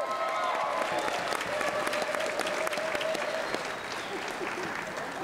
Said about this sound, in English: But a massive round of applause for Harry, young Harry Meeks.